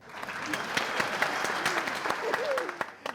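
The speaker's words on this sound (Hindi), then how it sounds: "बजा लो जरा सब ताली बजा लो" Crowd at a comedy show claps in a dense, lively round, with a voice briefly talking over the applause partway through.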